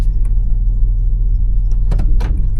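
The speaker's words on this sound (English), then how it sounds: "Move this forward just a hair and see how the steering feels" Low engine rumble of a two-door Chevy Blazer creeping forward a short distance, a steady drone with a few brief clunks and higher rattles near the end, no talking.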